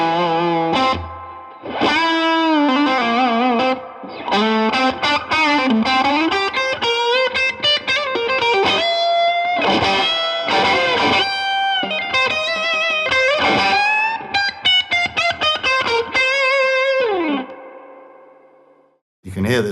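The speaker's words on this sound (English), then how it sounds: "fantastic tone and a fantastic array of tones that I was able to achieve for this blues using the Fillmore 50 combo" Electric guitar played blues-style through a MESA/Boogie Fillmore 50 combo with a healthy dose of reverb, a loud run of phrases and sustained notes lasting nearly twenty seconds, ending in a fading ring-out, with no talking over it.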